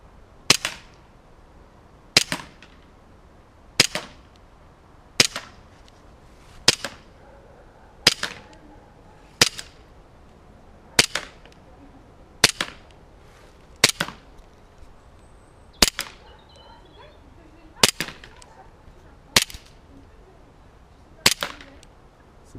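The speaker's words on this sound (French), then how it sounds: "Alors nous passons au test de tir." Cybergun 1911 anniversary airsoft replica pistol test-fired at targets ten meters away, thirteen sharp, crisp cracks at a slow, even pace of roughly one every one and a half seconds, close and loud against a quiet background.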